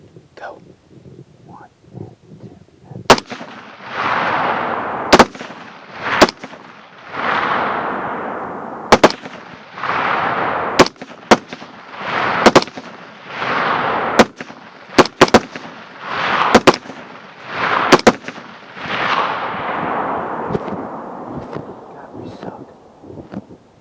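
A 6.5 Creedmoor rifle loaded with Hornady 143 ELDX rounds fires sharp, loud cracks at hogs, more than a dozen scattered shots over a long stretch, while soft whispered talk and bursts of noise fill the gaps.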